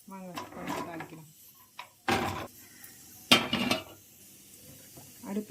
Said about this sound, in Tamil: அடுப்பில் சட்டியை போட்டோம்.